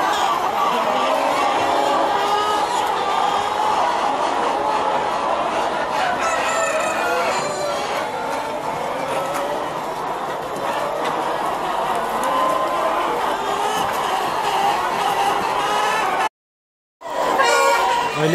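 Chickens on a Korean poultry farm in the morning, clucking and calling steadily throughout, with the flock noise fairly close and continuous, briefly cut to silence near the end.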